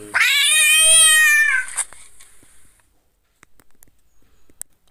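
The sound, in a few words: cat meowing from ARloopa augmented reality app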